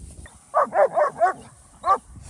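A dog, one of several playing outdoors, lets out a quick run of four short barks followed by a single final bark after a brief pause, loud and close.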